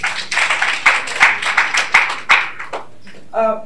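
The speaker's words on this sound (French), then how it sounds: "Donc, merci d'applaudir Mme Aïssatou Cissé." Audience applause at a panel talk on feminist movements, a short burst of close, distinct hand claps in uneven rhythm that thins out and stops, followed by a brief voice.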